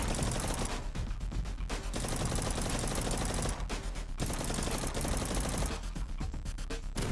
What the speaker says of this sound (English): Bro, everywhere I go, there's something shooting at me.